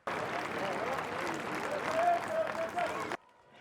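A crowd gathered outside the prince's palace in Monaco cheers and applauds the royal family on the balcony, a steady wash of clapping and distant voices that cuts off abruptly near the end.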